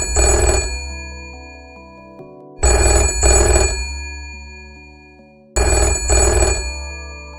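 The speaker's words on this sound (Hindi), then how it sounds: "देर रात तक जॉनी घर नहीं आया, पर तभी फोन की घंटी गनगना उठी।" A telephone rings in three loud, evenly spaced double bursts, each ring fading away before the next begins, with no voices.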